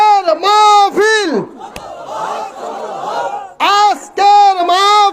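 A crowd of men at a religious gathering chants slogans in loud unison, two bursts at the start and two at the end, each rising and falling together, with a murmur of crowd noise between them.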